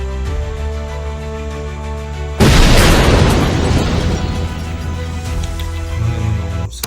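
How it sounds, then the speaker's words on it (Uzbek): A Nexia-2 car blows up at a methane filling station in Surxondaryo: a steady low hum gives way to a sudden loud boom, followed by several seconds of dense roaring, crackling burst noise. "Surxondaryoda mashina portlab ketdi metanda."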